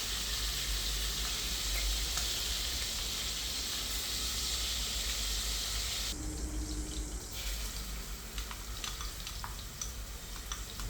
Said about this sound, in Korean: 여기에 당근과 샐러리, 마늘을 넣고 볶아줍니다.